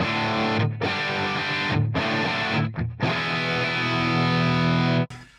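Distorted electric guitar through a Line 6 HX Stomp with input impedance on auto, playing loud sustained chords in a few strummed bursts separated by brief gaps, ending abruptly.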